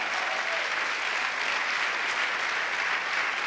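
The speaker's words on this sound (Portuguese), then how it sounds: "Você vai aplaudir Jesus por isso?" A church congregation applauds steadily and evenly for a few seconds, dense clapping filling the space without pauses or voices.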